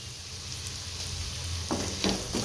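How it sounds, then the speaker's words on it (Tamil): Onions and green chillies with a pinch of salt sautéing in a pan, a steady close sizzle and frying hiss with a few soft stirring scrapes toward the end. "சேர்த்து நல்லா வதக்கி விட்டுருவோம் இப்போ வெங்காயம் பச்சை மிளகாலாம் இந்த அளவுக்கு வதங்கினா போதும்"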